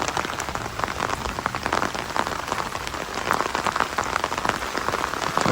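Heavy rain pours down steadily, drumming densely on surfaces with countless sharp drop impacts and no pause.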